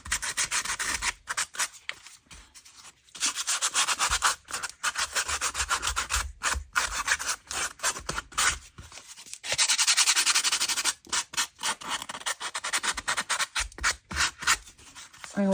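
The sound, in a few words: fine sandpaper sanding the edge of a junk journal cover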